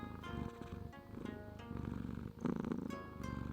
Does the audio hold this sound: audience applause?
no